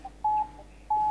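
Telephone signal tones on a call line during an Indonesian radio-style talk program, two steady beeps about half a second apart, clear and alone.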